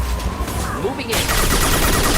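Rapid bursts of gunfire from the game Mass Effect 2 crackle loudly and continuously under a voice talking over the shots.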